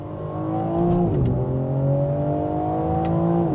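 A 530-horsepower BMW M4 Convertible accelerates hard with its variable exhaust open, engine tone rising through the revs, dipping at a shift near the middle, then climbing again, loud and close with no talk.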